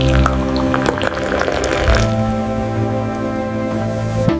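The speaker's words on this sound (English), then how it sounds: "First, put a tea bag in your cup and add hot water." Hot water pours into a cup holding a tea bag, a steady liquid splash and drip that rises in pitch as the cup fills, close and alone.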